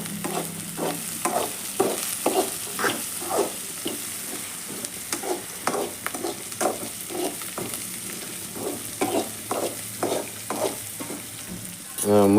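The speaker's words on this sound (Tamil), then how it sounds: "பாருங்கள், எண்ணெயிலே வேகுது." Food frying in hot oil in a pan for egg poriyal, a steady sizzle broken by repeated rhythmic scrapes of a stirring spoon, close up, with no talking.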